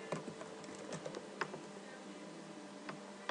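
Quick, uneven keystrokes patter across a computer keyboard as text is typed, close up and clear, with a few louder key hits standing out and no talking.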